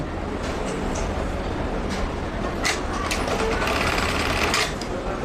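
A Juki LK-1900B button-stitching sewing machine running steadily as it sews on a button, a loud continuous mechanical whir with rapid rhythmic clatter throughout, heard up close and without a pause.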